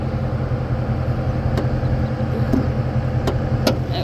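2015 Dodge Challenger with the 6.4-litre V8 idling steadily under an open hood, a close, loud, even rumble with a rhythmic chug and no talk.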